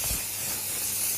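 Aerosol suede dye spraying onto velvet calfskin shoes in one steady, close hiss lasting about a second, alone with no voices.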